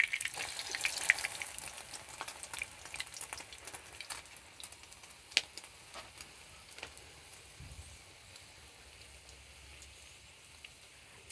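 An egg and a tortilla fry in a pan with a steady, quiet sizzle and scattered crackling pops close by; no one speaks.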